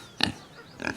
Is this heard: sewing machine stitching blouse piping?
no